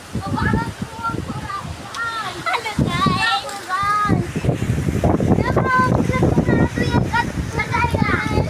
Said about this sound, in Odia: ପବନ ବି ବହୁତ ଆସୁଛି